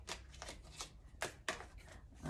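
Between Worlds oracle cards being shuffled and drawn by hand, a series of soft, papery riffling swishes with a few sharper flicks as cards slide and snap, close and quiet with no talking.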